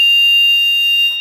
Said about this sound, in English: no memory beep, which is the same thing as if you don't have anything in there